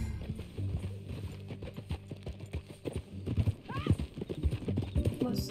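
Horse hooves clip-clopping at a steady gallop while riding in Red Dead Redemption, up close under game music and clear character talk, with a brief whinny partway through.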